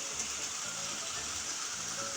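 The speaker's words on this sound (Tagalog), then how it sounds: "Lakas ang ulan." Heavy rain pouring down outdoors, a constant hissing rush with a faint low rumble beneath, steady and even throughout, with no one speaking.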